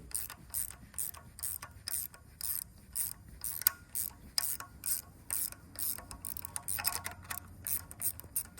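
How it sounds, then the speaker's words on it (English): A valve spring compressor wrench being turned back to release spring pressure on a Gen 3 LS engine, with repeated rhythmic ratcheting clicks and metallic rubbing, close and steady with no talk. "Then you can flip your wrench over and it starts to let back off the spring pressure."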